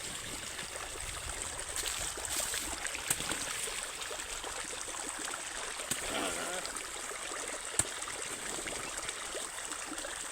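Irrigation water runs through a field channel as a soft, continuous trickling flow in the background, with a few faint clicks and knocks over the steady stream.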